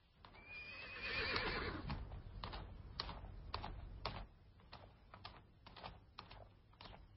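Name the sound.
horse neighing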